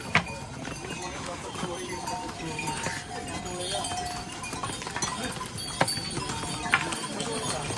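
Steady hoof clops of horses walking over a hard mountain path on the trek to Kedarnath, with bells and faint voices in the background of an outdoor scene.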